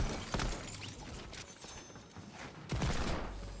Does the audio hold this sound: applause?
no